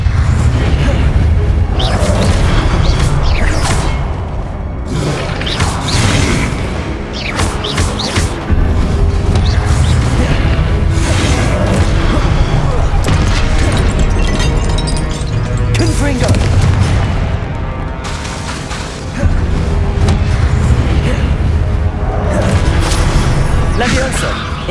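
Confringo blasting spells explode in Hogwarts Legacy, heavy booming blasts and crashes rolling one after another over continuous loud game combat noise, with spell incantations spoken over the action.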